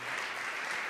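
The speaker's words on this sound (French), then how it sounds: "Et vous pouvez l'applaudir lui aussi." An audience in a French TV studio applauds the show's accompanist, a brief burst of dense, even clapping without pauses.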